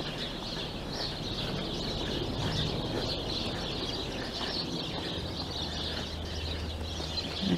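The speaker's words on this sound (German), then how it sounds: "Auch so viel Vögel." Birds call around a village in the Südheide near Celle. Steady outdoor twittering and clucking calls sit over a constant rural background, and the whole clip is ambient with no talk.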